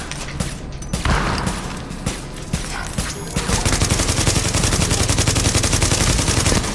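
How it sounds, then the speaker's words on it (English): Gunfire from The Division video game: a few heavy sniper rifle shots early on, then dense rapid automatic fire that keeps going. It is loud and close, and a voice talks faintly underneath. "I'm sniping at the guys"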